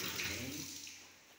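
Water runs from a bathroom pipe fed from a storage tank with no pump, giving a steady, soft hissing rush that slowly fades over about a second and a half.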